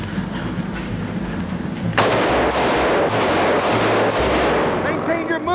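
Ruger SP101 revolver fired during a shooting drill outdoors: a loud sharp report, then several more shots at irregular intervals, each echoing, with a voice faintly audible beneath.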